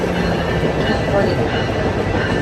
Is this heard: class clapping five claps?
no